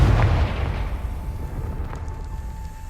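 In Hogwarts Legacy, a Confringo fire spell bursts in a loud, deep boom that opens the moment, then a rumbling tail and crackling debris fade out behind it.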